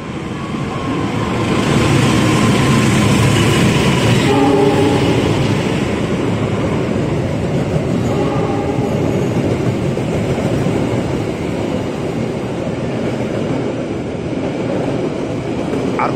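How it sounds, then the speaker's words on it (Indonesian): A KAI locomotive-hauled train rumbles past at Manggarai station in a continuous loud roar, with brief horn-like tones partway through, close by and with no talk. "Nah, ini dia lokomotifnya, lokomotif KAI ya,"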